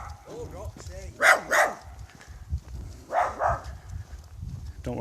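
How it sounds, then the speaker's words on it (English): A dog barks outdoors on an evening stroll, two quick pairs of sharp barks a couple of seconds apart, moderately close, with a person talking softly in between. "that was a dog"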